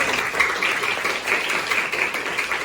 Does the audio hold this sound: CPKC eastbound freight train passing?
no